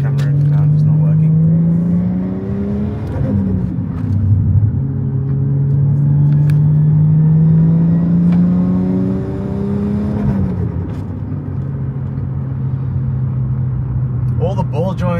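Toyota JZX100 Mark II car idling close up, its engine note rising and falling steadily as it pulls away in first gear, continuous and loud throughout.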